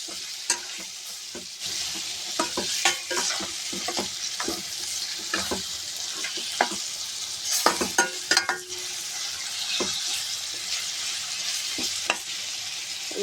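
Chicken pieces sizzle and fry in a pan with onions for moringa curry, with repeated scraping stirs of a spoon against the pan over a steady, close hiss.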